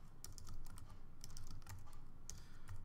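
Quick, uneven bursts of typing on a computer keyboard, light clicky keystrokes in short runs with brief pauses, close by and fairly quiet, no speech.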